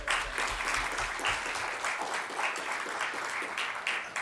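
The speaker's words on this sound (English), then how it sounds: "Let's give them a round of applause." Audience applause at a journalism conference in Sofia, a loud, dense wash of many clapping hands with steady pulses, continuing throughout without pause.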